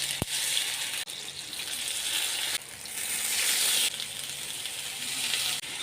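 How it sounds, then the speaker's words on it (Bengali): Squeezed mushrooms dropped into hot mustard oil in a wok, a loud close steady hiss and sizzle with a few thumps and brief dips as pieces land, no talk. "তেলটা গরম হয়ে গেছে, এবার মাশরুম ছাতুগুলো ওর মধ্যে দিয়ে দেব।"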